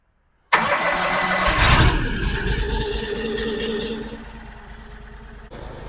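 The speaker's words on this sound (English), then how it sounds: "We'll get the conveyor started up, and we'll start splitting" A firewood processor's engine starts abruptly at a forestry expo and settles into a loud, steady mechanical roar. It surges briefly, then drones on with a conveyor and splitter running close by, and no voices are heard.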